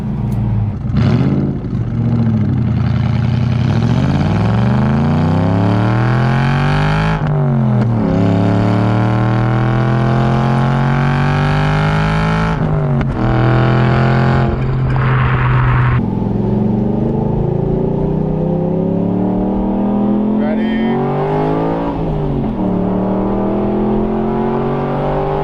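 A straight-piped Aston Martin engine revs hard again and again, its pitch sweeping up through the gears with raspy, unmuffled roars and brief drops between pulls.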